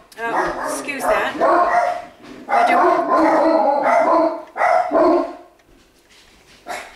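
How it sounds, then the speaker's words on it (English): Several household dogs barking and howling as a delivery reaches the front door, loud bursts of barks mixed with a person talking over them, then quieting near the end. "those are my dogs letting me know that, hey, somebody's coming to our house"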